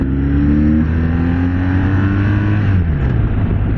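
A 2024 BMW R 1250 RT motorcycle's boxer engine running close by with a smooth, steady low drone and a slight rise and fall in pitch, loud and without voices.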